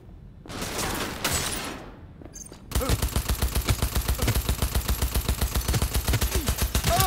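Rapid automatic gunfire from a weapon in the video game Cyberpunk 2077 rattles out as a long, loud, steady burst of closely spaced shots, preceded by a couple of seconds of softer game noise and rustling.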